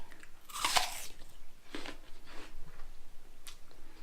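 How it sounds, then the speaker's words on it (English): Crisp crunching bites into an apple, with a loud first bite followed by a couple of fainter chewing crunches, close up in a quiet room. "Apple eating."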